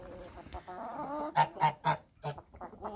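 Domestic geese honking near a farmyard nest, a quick run of about four loud nasal honks close by, with fainter calls before and after.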